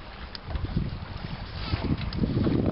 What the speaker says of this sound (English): lot of wind.